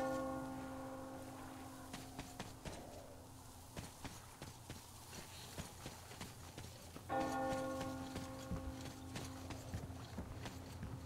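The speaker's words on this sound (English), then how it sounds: "Do you hear that bell?" Metallic bell tones ring in Metro Exodus during a train hijacking, two sustained resonant strikes a few seconds apart over rumbling, clattering train and footstep noise.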